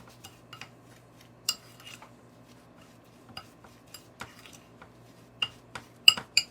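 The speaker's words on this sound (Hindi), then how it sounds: "मसालों को अच्छी तरह से मिक्स करेंगे।" Metal spoon clinking against a bowl while spices with salt and hot pepper are mixed for a rotisserie chicken: sparse, light taps and scrapes scattered through a quiet room, a few sharper clinks toward the end.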